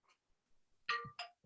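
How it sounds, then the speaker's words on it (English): A mobile phone ringtone chimes during a town housing plan meeting in Cornwall, Connecticut: a short electronic ding, a pause, then two bright ringing tones in quick succession, fairly close and clear with no talk over them. "My phone is ringing."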